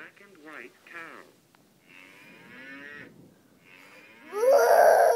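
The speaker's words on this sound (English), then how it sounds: "Moo." A farm animal toy plays a cow's moo, a loud drawn-out lowing at the end, after earlier bursts of a child's and adult's voices and softer toy tones.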